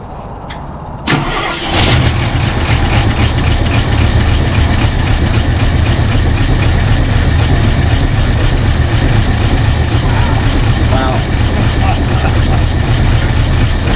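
A 1968 Ford F100 junkyard truck engine cranks briefly, catches and settles into a loud, steady idle that runs alone, close by, with a rough low rumble throughout.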